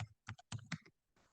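Fingers typing on a computer keyboard while entering text into an Excel spreadsheet, a quick cluster of soft, close key clicks followed by a brief pause and a fainter tap.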